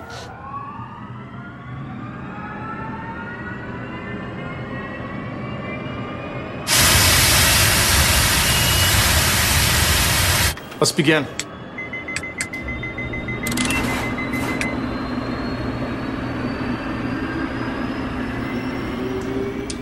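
A jet aircraft engine of the type from Southern Airways 242 runs on a test stand at three-quarter to full throttle while heavy water, up to monsoon-level rain, is thrown into it; a steady loud roar swells into a blasting surge, then drops back.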